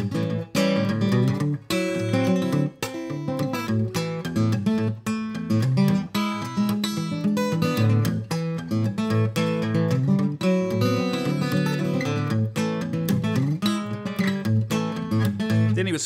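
Solo guitar with a raw, plucked picking style, sharp attacks and quick riffs in a busy, funky rhythm, played up close and loud throughout.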